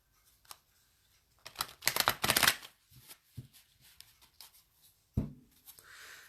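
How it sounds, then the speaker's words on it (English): Tarot or oracle cards being shuffled by hand in a quiet room, with soft riffling bursts, a dense flurry of card slaps in the middle, and a sharper thump near the end. "I'm tuning in right now and I'm shuffling cards"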